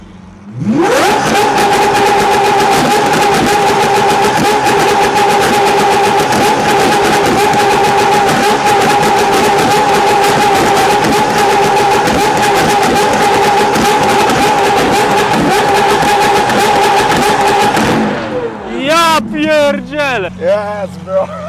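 Lamborghini Aventador Gintani F1 SVJ V12 engine revving hard while driven, a loud sustained howl that holds for most of the time and then drops into rising and falling throttle blips, with people talking.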